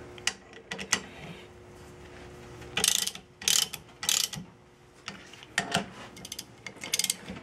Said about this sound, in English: Tighten it down nice and snug.